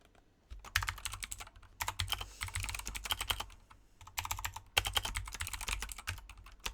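Rapid typing on a computer keyboard, dense bursts of clicking keystrokes in two long runs separated by brief pauses, close and alone with no talk.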